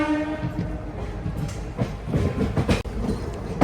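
A Vijayawada–Guntur–Macherla passenger train rolls loudly on the rails, wheels rumbling and clattering steadily near at hand, with a brief tonal horn-like note at the start.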